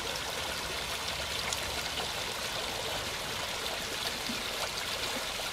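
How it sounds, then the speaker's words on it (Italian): Floodwater rushes steadily through the streets of central Foggia after a violent cloudburst, a dense, continuous roar and gush like a torrent, loud and unbroken throughout with no voices. "Sembra di stare vicino a un corso d'acqua, vicino a un torrente."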